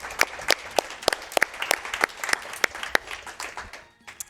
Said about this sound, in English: That deserves clapping.